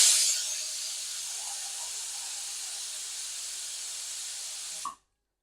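A pressure cooker releases steam: a steady, loud hiss escaping under pressure runs continuously for about five seconds, then cuts off abruptly.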